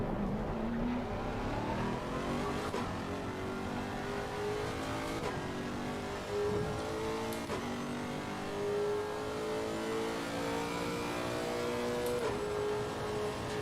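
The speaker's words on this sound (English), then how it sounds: "The engine of the Lexus is always amazing to listen to. That's a nice V8. Throaty." A Lexus V8 race car engine accelerates through gears during a practice session at Watkins Glen, rising throaty revs repeatedly climbing and dropping at shifts, loud and continuous from inside the car.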